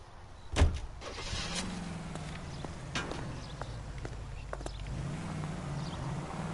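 A car heard close by, with low engine rumble, a door or body thud near the start and scattered clicks and movement around it.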